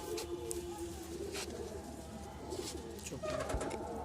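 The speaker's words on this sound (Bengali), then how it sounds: "খুব চমৎকার একটি কবুতর" Pigeon cooing from champion tournament racing pigeons at a pigeon club in Aganagar, Keraniganj, a soft steady low cooing under a continuous bird chorus, with scattered chirps and no talk.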